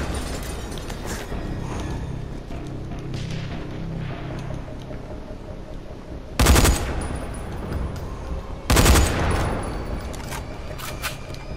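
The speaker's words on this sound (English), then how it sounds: "Where the fuck are you shooting me from?" Gunfire aimed at the player in the zombie survival game Dying Light: two sharp, loud bursts of shots ring out close by over a steady background of game ambience.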